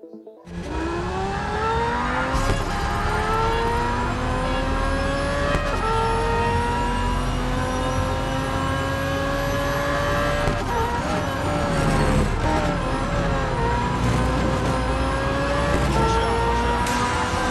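Race car engines in the Real Racing 3 game, an Audi R15 TDI prototype among a pack of other cars, loud sustained engine drone with rising and falling pitch as it shifts through gears, continuous for the whole stretch with no talk.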